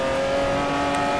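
Mercedes AMG GT-R race car engine in Forza Motosport 4, a steady, loud, aggressive drone held at high revs, close and alone without talk.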